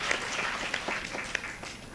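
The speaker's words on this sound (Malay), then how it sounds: "Tepuk tangan." A crowd at a medical research meeting claps together in steady, dense applause for about two seconds, moderately loud with a few sharper individual claps standing out.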